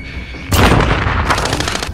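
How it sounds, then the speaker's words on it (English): Gunfire and explosions from the Warzone video game: a loud, close boom followed by sustained rapid shots and blasts. "I'm under fire"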